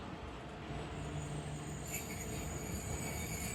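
The Tezgam Express pulls out of Patoki station after a two-minute halt, its rolling rumble continuous and steady with faint wheel squeal rising partway through, and no talk.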